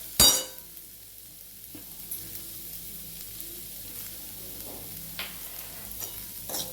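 Pumpkin curd chutney mixture stirred in a pan, with a sharp clink of the utensil at the start, then a soft low sizzle and faint scraping while it cooks.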